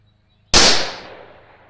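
A single loud, close gunshot fired at an Exede satellite dish, one sharp crack after a brief silence, followed by a long fading echo.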